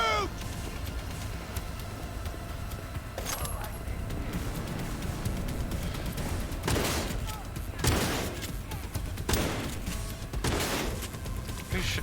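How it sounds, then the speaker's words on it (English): Gunfire crackles through a Cyberpunk 2077 firefight, with several sharp shots after a stretch of steady background noise and a faint voice underneath. "Who's shooting at me?"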